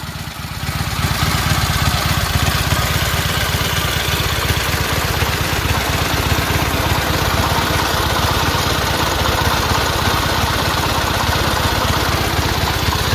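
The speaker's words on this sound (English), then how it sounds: "As you can see, the motorcycle is running great, tip-top shape." A 1925 Harley-Davidson JD 1200cc V-twin motorcycle engine runs steadily, a loud, close, continuous throbbing idle with an even rhythmic pulse throughout and no voices.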